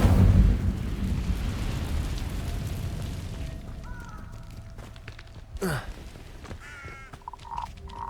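A fire spell cast in the Hogwarts Legacy video game, with a loud whooshing burst of flame that fades into a low rumble, followed by a sharp swish and game sounds including crow-like caws.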